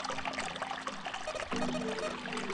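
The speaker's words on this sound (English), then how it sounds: "Water's filling up." Faucet water pouring and trickling in the video game 999 (9 Hours, 9 Persons, 9 Doors), a steady splashing stream that swells slightly partway through and runs continuously at moderate level.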